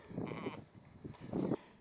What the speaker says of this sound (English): That sheep came to greet us as we came through the gate.